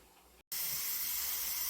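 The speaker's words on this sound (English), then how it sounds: "I've got a good head of steam going here, and I am just about at pressure." Steam hisses from a T-fal pressure canner processing carrots as it comes up to pressure, a faint hiss that cuts out briefly and then returns as a louder, steady, close spray of noise.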